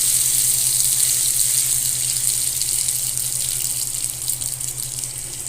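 Water runs steadily from a restroom faucet at a store, its mixing valve opened all the way, giving a continuous close hiss with a low hum beneath and no talk.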